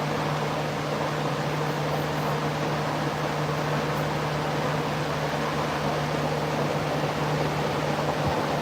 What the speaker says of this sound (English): shop vac white noise